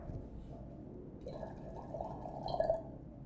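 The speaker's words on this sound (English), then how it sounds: "So what you do is pour away the water." Water is poured out of a small tea cup while brewing Yunnan golden needle red tea. It makes a faint, close trickle and soft splashing that swells briefly near the end in a quiet room.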